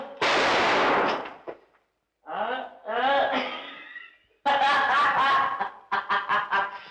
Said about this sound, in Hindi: ये तो खाली पीली का धमाका था